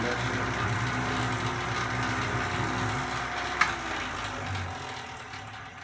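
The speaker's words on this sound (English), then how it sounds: "So as the slop is turning inside the mixer, dry powder is now being added into the screen up here." Clay mixer churning slop as dry powder is added through a screen above, a steady continuous mechanical rumble and rattling grind with one brief sharp knock midway.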